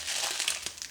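Plastic packaging crinkles and crackles continuously for about a second as it is cut open with scissors while making a peach dump cake, a dense, close, steady rustle with a few sharper snaps.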